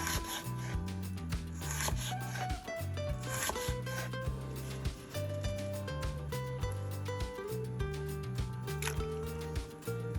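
A knife thinly slices a vegetable into 1 mm slices for temari sushi, a quick, steady run of soft rhythmic cuts against a board, close and faint, under background music.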